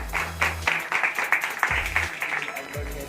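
A class of students clap together in bursts, with some loud voices breaking in between the claps, the sound close and roomy.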